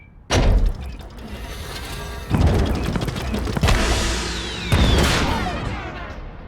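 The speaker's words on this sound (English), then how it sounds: "Did that explosion give you a concussion?" Booming explosions from a SpongeBob Cosmic Shake cutscene: three loud, heavy blasts arrive about two seconds apart, each a sharp thud followed by a rumbling, crackling tail, with no talk over them.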